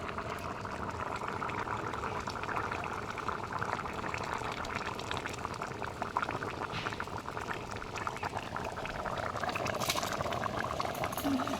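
Young jackfruit and shrimp curry boils steadily in a covered pot, giving a dense, continuous bubbling hiss that stays even and close for the whole stretch, with a brief soft clink near the end.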